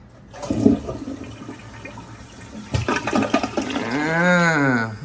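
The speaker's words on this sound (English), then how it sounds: "Here's your toilet, which I gotta tell you, it's pretty low to the ground. Flush test is" A low-set hotel toilet at a TownePlace Suites in Winchester, Virginia flushes with a sharp clunk, a rushing gurgle of water, and a rising, swirling drain that fills the end of the clip.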